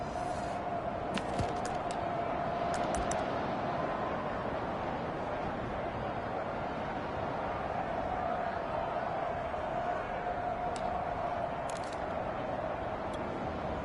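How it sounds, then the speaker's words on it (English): Steady stadium crowd roar in the video game Madden 22 during a two-point conversion fills the whole stretch, a dense continuous wash of many voices with occasional faint clicks on top. "Listen to this crowd now."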